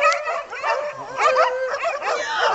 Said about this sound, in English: He's relentless, dog. Look at him fighting a dog.